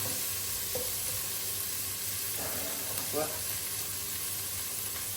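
Onion sautéing in a pan for a Tamil ivy gourd (kovakkai) kuzhambu, a steady broadband sizzle holding throughout with a few brief stirring scrapes near the middle.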